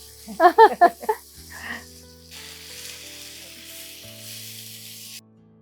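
Mutton is sautéed by hand in a pan for a curry, a soft even sizzle with light stirring that runs for a few seconds after brief talking, then cuts off abruptly.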